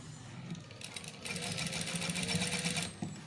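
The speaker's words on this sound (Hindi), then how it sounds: "पीछे की तरफ डबल सिलाई लगा दें" A sewing machine runs a steady mid-speed burst while double stitching the corner of fabric piping, starting after a brief pause and stopping near the end, fairly close and clear with no talk over it.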